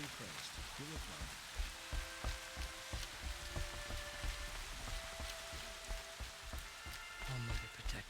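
Rain falls steadily as a faint, continuous hiss of pattering drops. Soft tonal sounds drift through it now and then.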